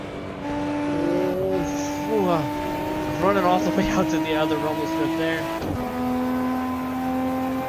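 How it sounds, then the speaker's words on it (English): Toyota Supra in Assetto Corsa revving hard with turbo whine and shift crackles, harmonic engine tones sweeping up and down through gear changes, someone talking over it throughout. "The crackles when it shifts, the red line sound, just the sheer turbo sound of this car."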